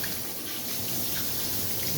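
A tap runs steadily after handwashing, a continuous close wash of water with no voices over it.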